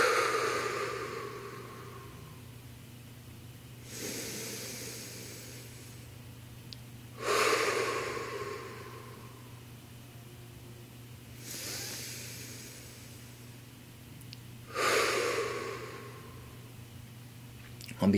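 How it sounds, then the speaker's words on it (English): Three slow, deep breaths drawn in through the nose, each a long soft hissing inhale followed by a pause and a quieter exhale, close and alone over a steady low hum. "3 breaths in through the nose."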